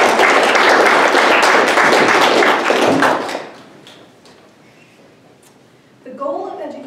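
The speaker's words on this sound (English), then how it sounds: "Please give her a round of applause." An audience at a speech competition final claps loudly for about three seconds, then the applause fades to a quiet hush before a voice begins.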